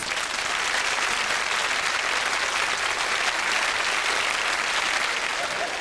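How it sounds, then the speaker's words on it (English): A 1990s UK television studio audience on a chat show applauds steadily, a dense and even wash of many hands clapping at moderate loudness for several seconds, with no voices over it. "give yourselves a round of applause"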